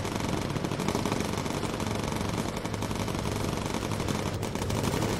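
A bomber's machine guns fire incendiary rounds in the Bomber Crew video game as one dense, unbroken rattle of rapid shots, loud and continuous for the whole stretch.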